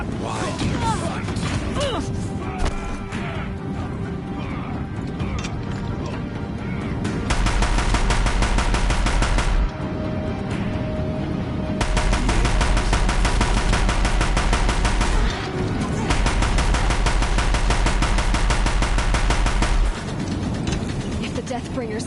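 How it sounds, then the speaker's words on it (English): Deathbringer machines in Horizon Zero Dawn fire heavy, sustained automatic bursts with mechanical whirring and clanking, dense and loud in long waves, with game voices talking over the battle. "If the Deathbringers keep firing, this bridge will go."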